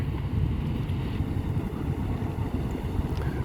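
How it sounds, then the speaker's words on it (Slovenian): Two tugboats ease a cargo ship away from its berth at the Port of Koper, a steady low engine rumble and water churn mixed with wind buffeting, continuous and fairly loud with no voices. "Remorkerje pa počasi iz sidrišča že premikata transportno ladjo od priveza."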